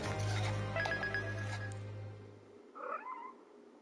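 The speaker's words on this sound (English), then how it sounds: "Kitty cat." A cat meows twice, faint and brief, near the end, after a musical game soundtrack with a ringing tone fades out in a courtroom mystery game.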